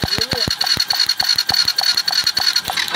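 A motorcycle engine sputters and fires after a spark plug swap, a rapid series of sharp clicking pops at an uneven beat, close and fairly loud.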